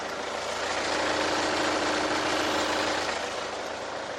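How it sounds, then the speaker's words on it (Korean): A 2016 Hyundai Santa Fe SUV engine idles steadily with an even mechanical hum and faint knocking, close and constant, no voices. "먼저 엔진 소음부터 체크해 보도록 하겠습니다"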